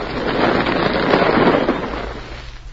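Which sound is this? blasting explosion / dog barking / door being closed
blasting explosion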